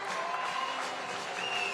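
Arena crowd in Marseille at a FIBA 3x3 World Tour basketball finals, clapping and cheering steadily throughout, a dense even wash of applause without breaks.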